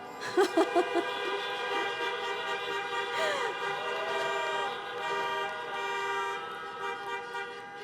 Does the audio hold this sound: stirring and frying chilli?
no